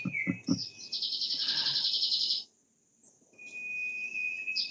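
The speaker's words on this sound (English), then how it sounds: "They're loud, those birds," Loud, close birdsong of rapid chirps and high trills fills the air almost continuously, breaks off for about a second of silence, then returns as a steady high twitter.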